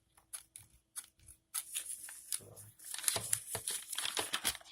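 Crisp snipping and crunching of heavy-duty scissors cutting through stiff material, several quick cuts in a row, close up with no talking.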